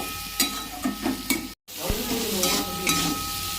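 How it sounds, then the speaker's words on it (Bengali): Diced eggplant fries in a pan with salt, turmeric and Kashmiri chilli, a steady close sizzle broken by repeated scraping stirs and a brief dropout. "নুন, হলুদ আর কাশ্মীরি লঙ্কা দিয়ে বেগুনটা একটু ভেজে নিচ্ছি।"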